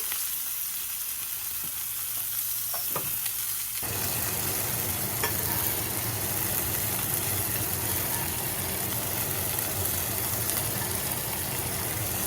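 Rabbit pieces frying in a pan over medium-low heat, a steady dense sizzle that swells louder after a few seconds and continues evenly, close and without talk.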